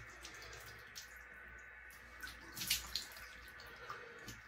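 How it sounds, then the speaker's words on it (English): Tap water runs steadily into a sink for a cold water face rinse, a soft continuous wash with a few faint splashes and a brief louder burst midway, heard quietly with no talking. "now we're gonna do a cold water rinse"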